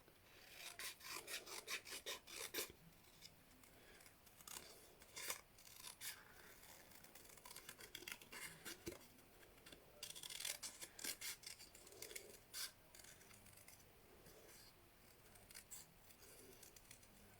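Scissors snipping through paper while making a snowflake-themed accordion mini album, a long run of quick, crisp cuts in uneven bursts, faint and close with no talk over them.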